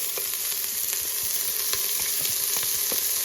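Diced onions fry in beef fat and avocado oil, a continuous close sizzle with a few soft scraping knocks from stirring, no talk.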